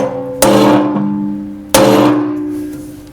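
A hammer strikes a small nail set twice, used like a center punch to mark a hole, each blow a sharp metallic ring that fades slowly, about a second and a half apart.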